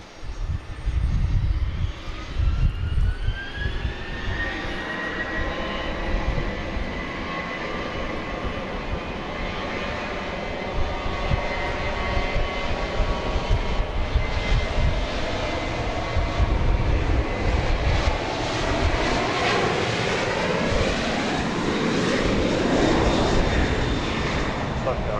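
A Boeing 737-800 jet roars steadily at Dallas Love Field at night, its engine whine sweeping and sustained for the whole stretch, loud and close, with a voice talking over it.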